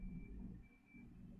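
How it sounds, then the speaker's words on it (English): A recycling lorry reverses somewhere in the background, its steady high beep running faintly over a low rumble of engine and traffic noise. "So the lorries beep as they reverse"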